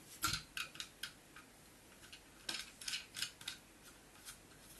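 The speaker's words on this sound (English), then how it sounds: "simply take these small little nuts and screw them onto the rods" Small nuts are screwed by hand onto the metal rods of a KME knife sharpener mounted on a wooden stabilizer base, giving a series of light, sharp metallic clicks and scrapes in irregular bursts.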